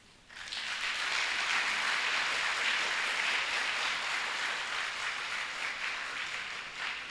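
Sustained audience applause after a talk at a golden jubilee event, dense clapping rising sharply and holding steady, fairly close and loud throughout without voices.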